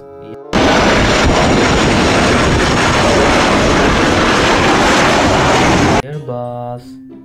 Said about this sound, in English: air bus.